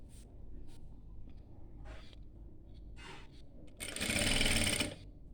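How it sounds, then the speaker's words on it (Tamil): An electric sewing machine stitches a rolled petticoat hem in a tailoring lesson, short faint whirring bursts building to one loud, steady run of stitching near the end. "இது மாதிரி சுருட்டி தைச்சாலே போதும் பெட்டிக்கோட்டுக்கு"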